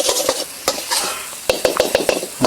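Chicken giblets stir-fry over a charcoal stove, sizzling beneath repeated sharp scrapes and clacks of a utensil against the pan in an irregular rhythm, close and loud.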